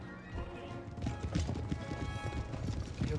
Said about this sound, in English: Cavalry advance towards the regiment of horse.